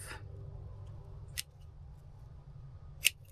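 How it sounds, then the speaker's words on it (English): Scissors snip large leaves off a plant cutting: two or three quick, crisp cuts spaced apart over a low background hum, quiet and close. "cut just above that second node. Cut those big leaves off"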